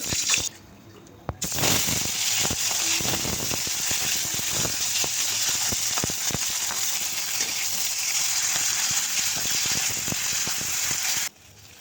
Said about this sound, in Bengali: এবার মাথাটাকে ভালোভাবে লাল করে ভেজে নিতে হবে, না হলে একটা আষ্টে গন্ধ থাকবে